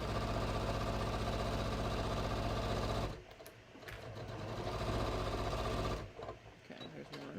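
Sewing machine basting pieces of jeans together in a straight run, a loud steady motor drone for about three seconds, then pausing briefly and resuming with several shorter bursts.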